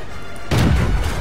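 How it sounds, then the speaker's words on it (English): A tank's main gun fires in World of Tanks, one sudden deep boom that rolls out into a short rumbling decay, loud and close. "I'm going to shoot at the front turret."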